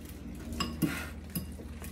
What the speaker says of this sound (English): let's stir in our secret ingredient.